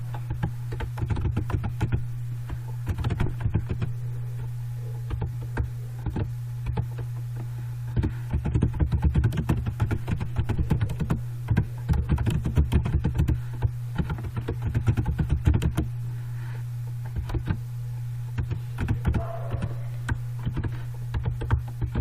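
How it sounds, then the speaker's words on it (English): Java program being typed on a computer keyboard, a long run of close, irregular key clicks in bursts and pauses over a constant low electrical hum, with no talking. "I am typing a simple Java program here"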